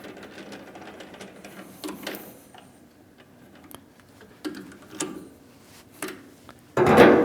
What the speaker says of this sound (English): we will machine another spool on the other side of it